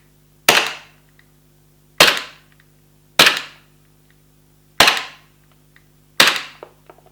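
Homemade gas blowback airsoft pistol with its stock plastic slide fires five sharp, loud cracks, spaced about one to one and a half seconds apart, each with a short decaying tail, no talking.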